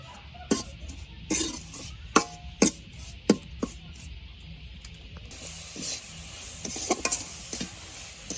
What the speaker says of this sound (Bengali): গুড় আর নারকেল কোড়াটা আমি ভালোভাবে মিশিয়ে নেব।